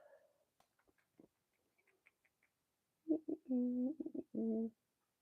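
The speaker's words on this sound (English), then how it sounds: "Is there a bird? Oh, is there a bird?" A bird trapped inside a store gives a few scattered chirps and clicks in a quiet room, then a cluster of louder cooing, pigeon-like calls at close range, with no talking.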